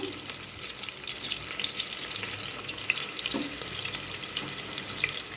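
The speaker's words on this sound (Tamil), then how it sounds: "ஆனியன் நல் நல்லா வதங்கட்டும்" Onions sautéing in a pan for a Thoothukudi-style goat lung gravy, a steady close crackling sizzle with occasional soft stirring clicks and no talking.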